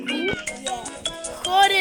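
Synthetic cat meows and yowls from the Cat Simulator video game play repeatedly over the game's background while a person talks throughout.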